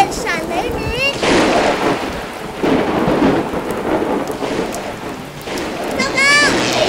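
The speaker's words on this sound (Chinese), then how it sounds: "天空中乌云密布，电闪雷鸣。" Thunder rumbles and heavy rain pours steadily in an animated cartoon, and short squeaky cartoon sound effects chirp at the start and the end.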